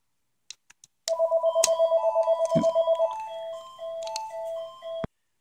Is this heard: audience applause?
no